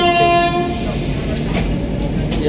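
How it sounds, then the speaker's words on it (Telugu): A train horn sounds loudly at the start, sustained and tonal, fading into the rumbling clatter of the Vivek Express passenger train moving off close by from Cuttack. "కటక్ నుండి కూడా మన ట్రైన్ అయితే డిపార్ట్ అవుతుంది"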